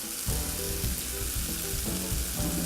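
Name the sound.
garlic sizzling as it is added to the pan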